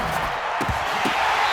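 Arrowhead stadium crowd in Madden 20, Broncos at Chiefs on third and goal, a dense, loud, continuous roar with a few low thumps and shouts rising through it.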